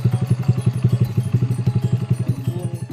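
Motorcycle ridden up a hill toward a forest, its engine loud and close with a steady rapid pulsing putter throughout, no voices.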